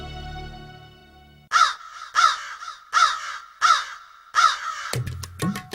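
Crows in an animated Hindi folk story caw in five loud, evenly spaced calls, then a short burst of sharper, clattering sounds closes the sequence.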